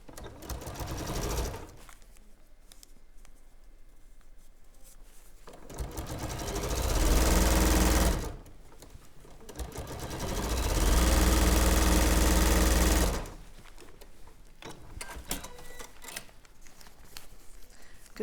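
A sewing machine stitches denim cushion quilt pieces in two loud, steady runs of several seconds each, separated by quieter pauses with faint handling sounds; no talking.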